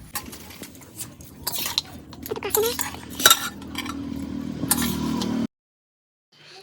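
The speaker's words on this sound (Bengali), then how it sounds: "এখানে আমি প্রেসার কুকার নিয়েছি, তো প্রেসার কুকারের মধ্যে এখন আমি মাংসগুলো দিয়ে দেবো" Duck meat is spooned into a pressure cooker, with metallic scraping and clinks of a spoon against the pot in a kitchen, fairly faint, followed by silence.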